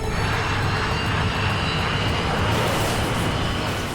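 A KLM jet airliner roars down the runway at takeoff speed, a loud, steady broadband engine rush that holds constant throughout with no voices.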